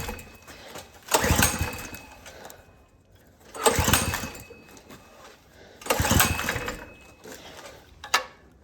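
Small petrol engine, choke left off, being pull-started: three rough bursts of cranking roughly two and a half seconds apart, each sputtering briefly without catching, followed by a short final tug, close by.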